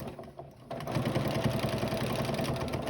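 A sewing machine back stitches a fabric face mask seam, starting with a quieter stretch and then a steady, rapid mechanical whirring and clatter of the needle that runs continuously close by, with no talk.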